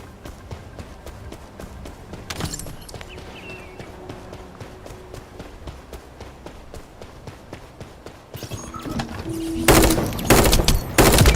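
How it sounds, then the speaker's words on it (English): Gunfire in the video game The First Descendant: a rapid stream of sharp shots that crackles evenly, then louder, denser bursts near the end. "That stopped the gunfire."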